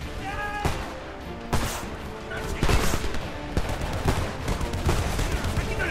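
A vehicle-mounted gun firing in the war shooter Homefront, sharp heavy shots spaced out in irregular bursts, with explosions and battle chatter mixed around them.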